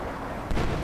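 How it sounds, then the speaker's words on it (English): Artillery shells landing in a World War II real-time strategy game, a single heavy boom striking about midway through, loud and broad over a steady low battle rumble, with no voices. "Artillery flying in once more on the Flag 88."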